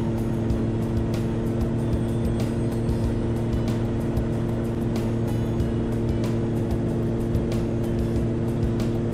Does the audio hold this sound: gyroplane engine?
yes